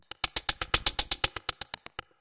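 A processed drum loop with LFO modulation, auto-pan, phaser, reverb and sidechain to the kick: a rapid run of about sixteen bright, crisp hits with pumping, swelling levels, ending in a short tail, with no talk.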